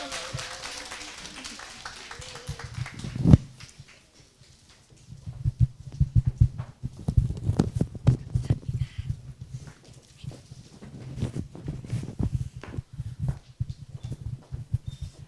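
An audience at a Sunday seminar in Jongno applauds as a speaker, a Royal Master, is welcomed onto the stage. Scattered claps of moderate strength run steadily, with a brief loud burst near the start.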